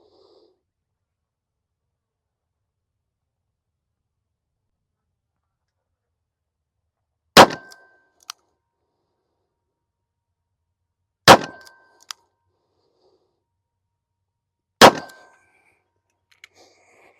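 Three sharp, loud revolver shots from a Heritage Roscoe .38 Special fired at a 7-yard target, spaced several seconds apart after a long silence, each a crisp crack with a brief ringing tail.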